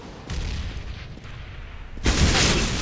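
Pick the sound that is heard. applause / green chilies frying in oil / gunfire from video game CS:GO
gunfire from video game CS:GO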